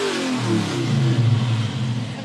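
A big eight-cylinder car engine rated at 435 horsepower, shown at a regional fair, revs with a deep, rumbling roar that rises and falls over steady background noise.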